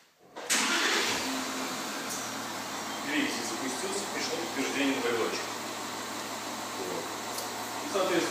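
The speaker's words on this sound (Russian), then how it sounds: "На данной машине была реализована функция дистанционного запуска двигателя" An Audi Q7 engine fires up by remote start after a brief quiet moment, then settles into a steady idle with some rising and falling engine tones, while someone talks over it.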